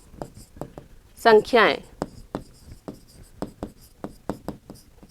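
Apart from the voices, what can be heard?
writing on a board during a maths lesson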